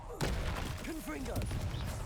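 Confringo blasting spell fired in Hogwarts Legacy, a sharp explosive burst near the start followed by rumbling, crackling debris with a voice over it.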